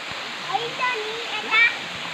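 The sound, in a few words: Satashidham waterfall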